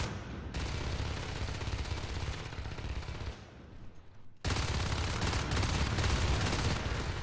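Rapid automatic gunfire from a Natural Selection 2 match, loud and continuous bursts that dip briefly to near silence midway before resuming at full intensity.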